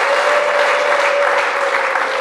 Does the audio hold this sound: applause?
yes